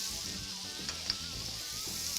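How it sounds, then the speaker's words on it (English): Shawarma-seasoned skirt steak sizzles steadily in a hot pan, loud and close, with faint scraping of a brief stir and no talking. "I will stir it a little just to make sure that all flavors come together"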